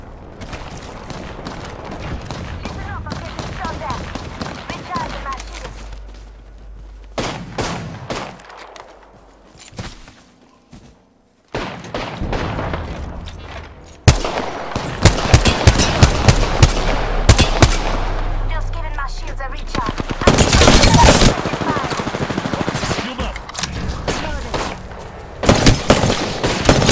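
Gunfire aimed at the player in a shooter video game: rapid automatic bursts and single shots crackling in loud clusters, broken by short quiet gaps and a few heavier booms.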